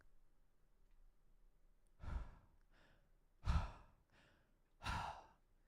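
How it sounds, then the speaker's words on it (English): Three heavy breaths or sighs near the microphone, spaced about a second and a half apart, each a short loud rush of air against a quiet background, with no talking. "Like certain breathing."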